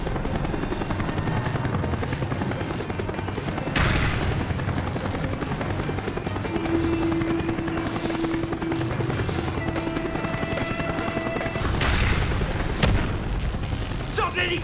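A helicopter in Call of Duty: Black Ops drones with a steady rotor thrum, broken by loud booms and bursts of gunfire, while voices speak over the noise.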